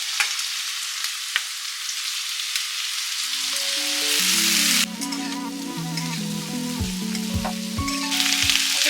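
Potatoes and onions sizzle in a pan of pointed gourd, a steady crackling fry with a few stirring scrapes and thumps near the end, and no voices.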